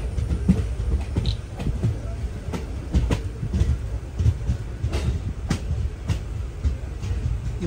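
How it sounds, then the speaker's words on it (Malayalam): A passenger train pulls into Pudukad railway station during a general-class journey from Guruvayur to Ernakulam, with a steady loud rumble and rhythmic clicking of wheels over rail joints heard from inside the carriage. "പുതുക്കാട് റെയിൽവേ സ്റ്റേഷനിലേക്ക് ഇതാ ട്രെയിൻ എത്തിക്കൊണ്ടിരിക്കുകയാണ്."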